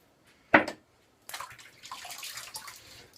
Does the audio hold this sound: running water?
yes